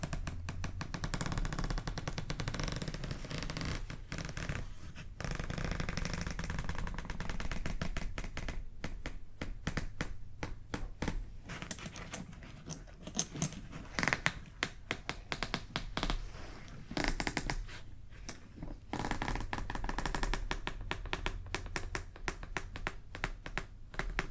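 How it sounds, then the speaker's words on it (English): A loud, rapid suitcase zipper rasping in long continuous runs with brief pauses, close up, dense and mechanical, with no talking. "is such a loud zipper"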